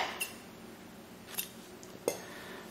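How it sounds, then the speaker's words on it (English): Scissors snip through crochet yarn in a few quiet, separate cuts: three faint, brief clicks spread out over a soft, steady background with no one talking. "Now I'll chain 1 and I'll cut this yarn."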